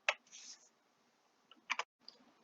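Keys on a computer keyboard are pressed in a few sharp, sparse clicks, with short pauses between the taps and faint background hiss.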